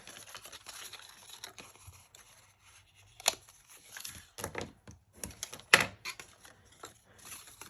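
Scored card paper for a pop-up card is folded along its lines, giving faint, close crinkles and a few sharp creasing snaps in quiet surroundings.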